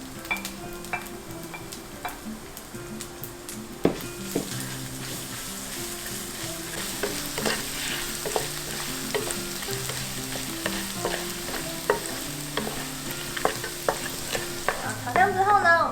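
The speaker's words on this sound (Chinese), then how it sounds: "再放入老姜末跟辣椒末炒香。" Minced aged ginger and chili stir-fried in oil in a wok: continuous crackling sizzle with repeated scrapes and clacks of a spatula stirring, steady throughout, with no talk.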